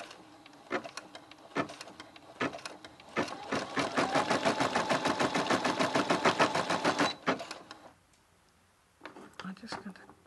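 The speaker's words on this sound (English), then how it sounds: "I'm just going to set the machine to go and it will stitch out the design for me" An embroidery machine stitches out a design on fabric stabiliser layered in a hoop, with a fast, even mechanical needle rattle that starts in spurts, runs continuously for several seconds, stops, then resumes briefly.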